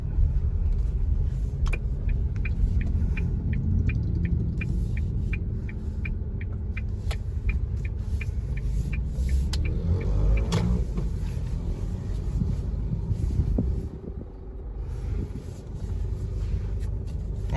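A 2022 Isuzu Mu-X heard from inside the cabin while driving, a steady low road and engine rumble with a regular ticking like an indicator for several seconds, no voices over it.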